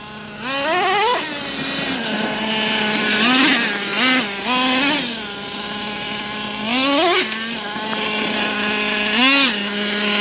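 Traxxas T-Maxx nitro RC truck engine revving hard at a skate park, its high buzzing pitch climbing and falling in repeated bursts, loud and close with no talk.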